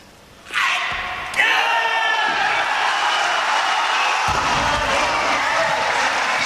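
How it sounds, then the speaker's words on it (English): A weightlifting crowd at the 2012 European Championships, 94 kg snatch, bursts into loud cheering and applause after a successful lift, rising sharply and holding as a sustained roar. "Sticks that, appreciative crowd."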